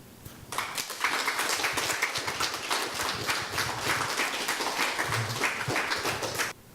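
An audience applauds at the end of a lecture on disability discrimination, a steady, dense crowd of clapping hands lasting about six seconds, fairly close and even, cutting off abruptly.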